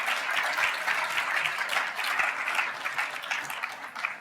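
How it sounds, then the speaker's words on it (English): Conference audience at a closing plenary applauds a winning nutrition team, steady, fairly distant clapping from a large room that holds evenly throughout without talk. "Round of applause for these guys."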